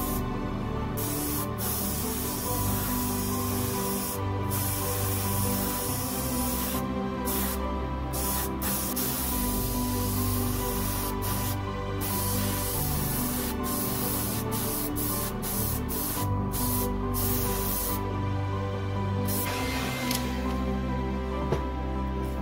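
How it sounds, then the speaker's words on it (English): Yellow spray paint hisses in short bursts from an aerosol can onto each side of a fishing lure, steady and close, with brief pauses between passes. "spray each side of the lure"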